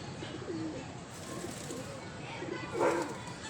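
Female pigeon cooing in a loft, soft repeated low coos at a moderate distance, mixed with background chatter and ambient noise.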